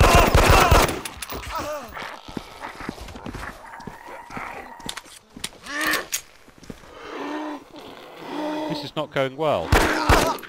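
Pistol shots from a .45 handgun in the survival game DayZ crack out in short bursts among horse-like clip-clop and shuffling, with someone talking over much of the action.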